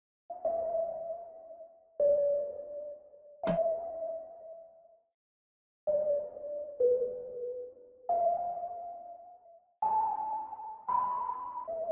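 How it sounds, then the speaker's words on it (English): A spacey synth pluck plays a slow melody for a phonk beat in FL Studio, each note ringing out and decaying, with a short gap partway through before the phrase continues. "Look for something that's kind of a piano or a pluck, like a spacey pluck"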